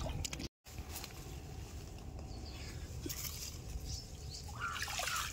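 Gentle trickling water flows steadily outdoors, with a brief dropout near the start and faint chirps from birds toward the end.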